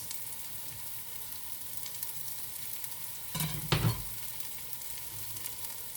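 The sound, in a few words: homegrown green pepper frying in the pot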